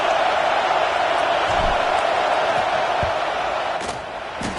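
Football stadium crowd roaring steadily before a fourth-down field goal kick, a loud sustained wash of cheering with a few sharp bursts near the end, fading slightly at the close.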